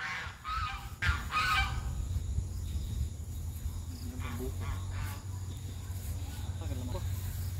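Large geese honk repeatedly over a steady insect chirr and low rumble on a farm, with people talking nearby.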